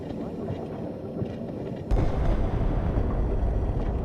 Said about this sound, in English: The thunder, the sounds of thunder is amazing every time.